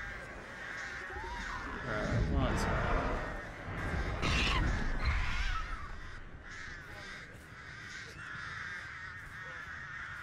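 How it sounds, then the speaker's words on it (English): Crows caw repeatedly in the Dead by Daylight video game, harsh calls scattered over a noisy in-game background with brief talking in places. "Let me just set some crows here."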